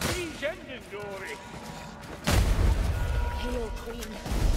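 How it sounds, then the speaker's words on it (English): A siege engine fires in the Warhammer Vermintide video game as a heavy, booming impact that hits suddenly midway and leaves a loud rumbling roar, after game voices talking and shouting. "That's the sound of the siege engine, Dory."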